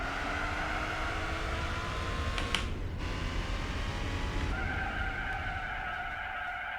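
Race car in Gran Turismo 4 braking too hard into a corner, tires skidding and squealing over a steady engine roar, with a sharp screech burst midway.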